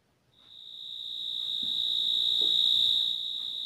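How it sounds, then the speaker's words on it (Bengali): Crickets chirp at night in a forest in one steady, shrill, continuous trill that swells in within the first half second and holds loud to the end, with no talk over it. "হয় ঝিঝি পোকার ডাক শোনো"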